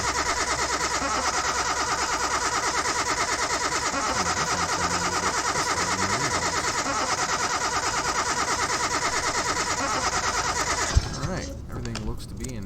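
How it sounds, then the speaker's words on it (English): A steady car engine drone in Car Mechanic Simulator 2021, buzzy and layered, running loud and unbroken, then cutting out abruptly near the end, leaving a short jumble of noise. "Try and start the engine, which the engine runs fine. That's loud."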